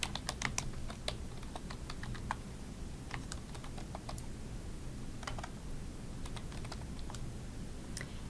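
Someone types a file name on a computer keyboard, a close run of crisp key clicks in short uneven bursts with pauses, over a steady low room hum.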